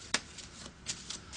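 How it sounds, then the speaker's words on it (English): A deck of playing cards is given a quick shuffle by hand, producing a few crisp riffling snaps and soft rustles, close and fairly quiet, with no talking. "I'm just going to give the cards a quick little shuffle here"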